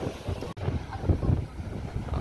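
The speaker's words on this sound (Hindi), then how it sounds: "हवा बहुत तेज चल रही है" Strong wind blows at the seashore, buffeting the microphone in a loud, rumbling roar with gusty surges and a brief dropout.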